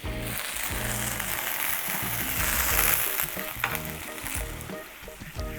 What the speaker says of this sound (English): And you just want to burn the alcohol off.